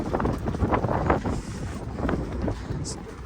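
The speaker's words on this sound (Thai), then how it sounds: "บรรยากาศ ลมอาจจะแรงอยู่น้อยนะครับ" Strong wind buffets the microphone outdoors at a scenic viewpoint in Thailand, a steady, rough roar that persists throughout.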